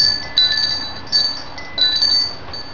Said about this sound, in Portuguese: Aqui também fica um sininho dela, eu acho que é.